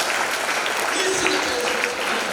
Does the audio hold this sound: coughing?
no